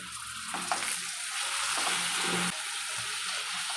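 Chopped ridge gourd goes into a hot tempering of oil and spices and sizzles loudly, with a steady hiss and a few stirring scrapes, close and without talk.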